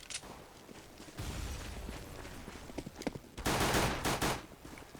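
Counter-Strike pistol round on the de_cache map during an esports match, with bursts of gunfire building into a louder, dense volley near the end over background game noise.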